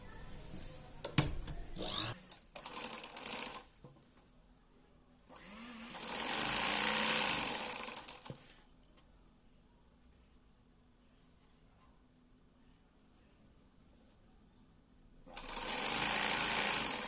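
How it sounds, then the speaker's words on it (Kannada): A sewing machine runs a stitch along the edge of fabric cut from an old saree, in two steady whirring bursts separated by quieter pauses with faint handling noises. "ಒಂದು ಸೈಡ್ಗೆ ಮಾತ್ರ ಈಗ ಎಡ್ಜ್ಗೆನೆ ಒಂದು ಸ್ಟಿಚ್ಚನ್ನು ಹಾಕ್ಕೊಳ್ಳಿ."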